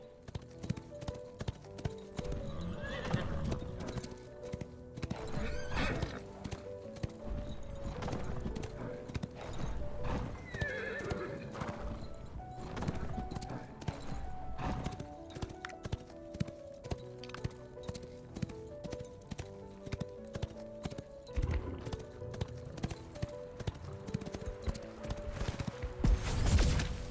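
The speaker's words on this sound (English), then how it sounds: "Oh, speedy horse." Horse hooves clip-clop steadily at a gallop in the fantasy video game Ashes of Creation, with an occasional neigh, set against game music and ambience for most of the stretch.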